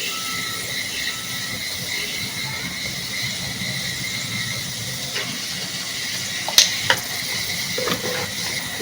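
Masala with red chili powder sautéing in a pan, a steady hiss and sizzle with a few sharp scraping clicks of stirring near the end.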